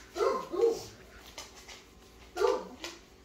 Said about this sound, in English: Oh, I hear hound dog. You hear that, hound doggy?